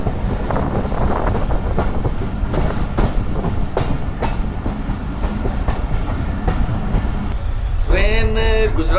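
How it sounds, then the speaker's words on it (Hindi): Awami Express passenger train running out of Lahore station past Shahdara Bagh Junction in Pakistan, a steady loud rumble of rolling wagons with rhythmic clickety-clack of wheels over rail joints, ending in a brief high squeal. "ट्रेन लाहौर स्टेशन से निकलकर शाहदरा बाग जंक्शन, जो कि लाहौर का ही हिस्सा है, और यहाँ इसका स्टॉप नहीं है।"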